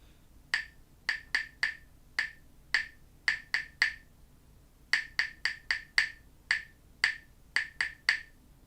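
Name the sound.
class clapping a rhythm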